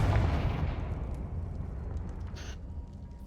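A Confringo blasting curse explodes in the Hogwarts Legacy game: a loud, close burst that opens the clip and decays into a rumbling tail lasting a few seconds, with a brief higher crackle near the end.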